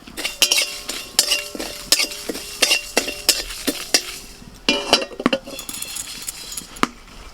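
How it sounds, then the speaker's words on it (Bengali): Dried chillies, whole coriander and cumin are dry-roasted in a dry kadai, giving close, repeated metallic scrapes and clinks of a spoon against the pan over a soft rattle of seeds. "মশলাটা ভালো করে আমি নেড়ে নিয়েছি শুকনো কড়াইতে"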